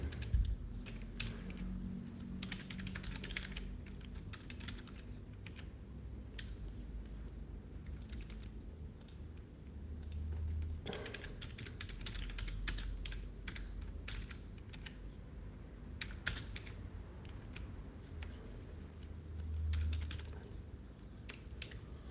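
Rapid, steady typing on a computer keyboard while a web form is filled in, dense key clicks running for about twenty seconds with brief pauses, close and moderately loud over a low rumbling background, no talking.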